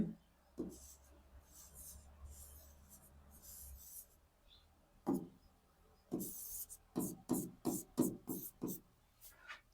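Chalk or marker scrapes across a classroom board in bursts: a few isolated strokes early on, then a quick run of short, rhythmic strokes near the end, fairly close with quiet room tone between.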